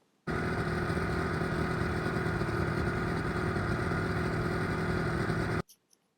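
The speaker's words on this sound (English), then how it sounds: "the engine's purring" A steady, loud boat engine on a 1969 Sidewinder drones at an even idle for about five seconds, then cuts off abruptly into near silence with a couple of faint knocks.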